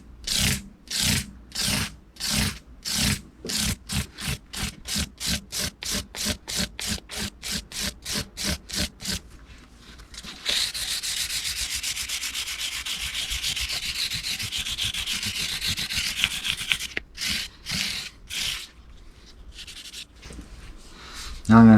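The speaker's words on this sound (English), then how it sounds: "got a piece of my 1200, and we're just going to lightly go over the tops of these frets." Fine 1200-grit sandpaper is rubbed over the tops of guitar frets, first in quick, even back-and-forth strokes, then in one long steady scratchy rub, close and fairly quiet.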